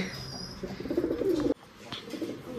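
Caged pigeons give a low, throaty coo close by over a second and a half, broken off abruptly and followed by faint rustling and a soft chirp.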